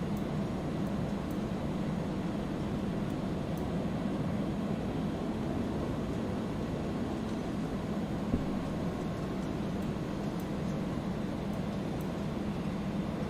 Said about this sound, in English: It's a noisy plane, yes.